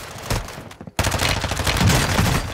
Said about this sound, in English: These guys are shooting back right now.